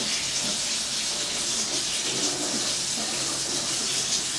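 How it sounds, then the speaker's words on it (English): Warm water runs from a tap into a bowl in a steady, loud, hissing stream with no breaks, close by and alone throughout. "When the warm water starts coming through"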